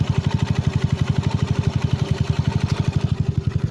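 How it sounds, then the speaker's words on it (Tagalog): A motorcycle engine with a big valve setup runs at a steady idle, its quick, even pulsing exhaust thumps loud and close for the whole stretch, with no talking. "So ayan napakatahimik na makina."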